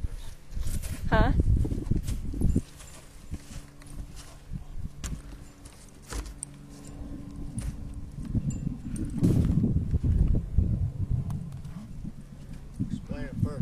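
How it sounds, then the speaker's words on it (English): Horse hooves clip-clopping on arena ground as the horse is sent past a barrel set about five feet off the rail, soft thuds under outdoor wind and someone talking over them. "start sending a horse past the barrel"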